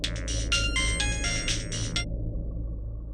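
A loud electronic ringing tone in rapid repeated pulses for about two seconds, then it cuts off, leaving a low steady rumble.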